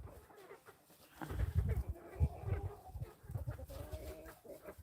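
Hens cluck and murmur around a farmyard on a warm day, soft irregular calls close by with low scuffling sounds beneath.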